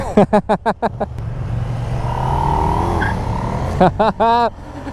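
A KTM 890 motorcycle (Duke or Adventure) revs sharply in a rapid string of throttle bursts, falls to a smoother running drone, then snaps back into several quick revs close by.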